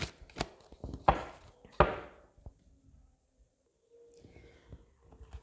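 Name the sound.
shuffling oracle cards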